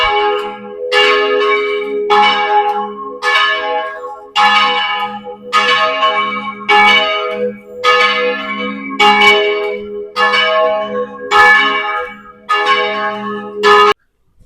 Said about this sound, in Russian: посмотрите, как колокол бьет.